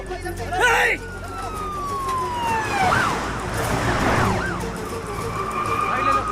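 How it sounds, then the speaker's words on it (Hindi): A police siren wails up and down over street noise, its rising and falling tone fairly close and steady, with some voices in the background. "पुलिस की गाड़ी आ रही है, जल्दी"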